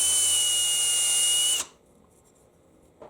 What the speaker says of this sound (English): I'm going to use my countersink and the drill to knock the burrs off the back